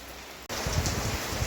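Heavy rain sets in abruptly after a brief quiet moment, becoming a dense, even patter close by that holds steady to the end.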